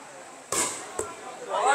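Volleyball spike in a ward-level match for the Bắc Sơn side, a sharp loud smack of hand on ball followed half a second later by a second crisp thud, with crowd noise swelling afterward.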